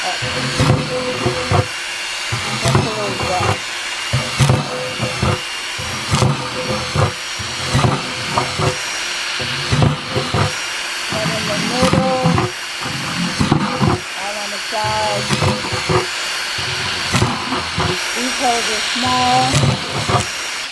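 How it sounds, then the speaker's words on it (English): A power drill whines in bursts as it bores small holes in a 5-gallon plastic Home Depot bucket, the motor revving up and down repeatedly with a voice talking over it. "I'm going to show you how I drill the holes in the buckets"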